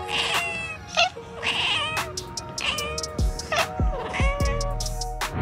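An orange cat meows repeatedly at close range, with a string of drawn-out, rising and falling calls and a few short cries, loud and clear with no talk.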